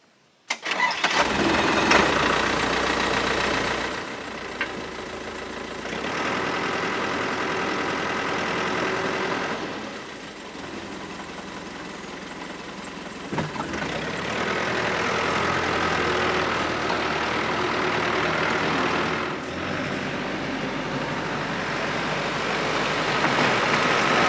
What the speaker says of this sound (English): let's get that Komatsu backhoe fired up